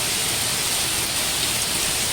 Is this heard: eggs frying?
no